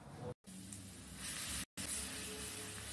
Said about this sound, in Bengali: রসুন বাটাটা আমি এবার আগে তেলের মধ্যে দিয়ে দিলাম।